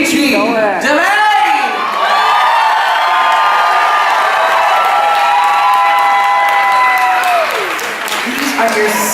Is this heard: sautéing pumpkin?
no